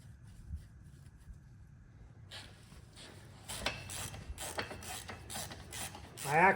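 A socket wrench ratchets in quick clicking strokes while tightening a wheel bearing on a hub, faint at first then growing closer and louder, with no talking.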